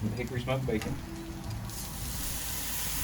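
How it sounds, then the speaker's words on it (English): Traditional-cut hickory smoked bacon hits a Blackstone griddle, a brief voice at the start giving way to a bright, steady sizzle that builds and holds to the end. "Go ahead and throw down our bacon. This is just regular traditional cut hickory smoked bacon."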